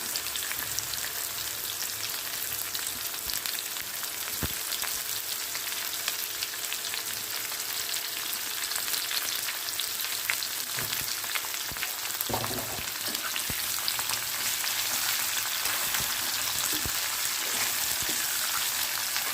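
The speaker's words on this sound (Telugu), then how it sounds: "పోపు అయితే వేడెక్కింది ఇప్పుడు కాకరకాయ ముక్కలు అయితే వేసేస్తున్నామండి" Pieces of bitter gourd fry in hot tempering oil over a high flame, giving a steady, dense sizzle that lasts throughout, with a few sharper pops and crackles standing out partway through.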